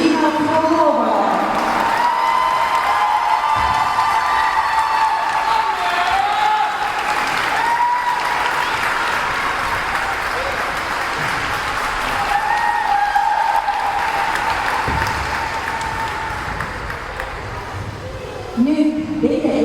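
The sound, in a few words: audience applause for a figure skating soloist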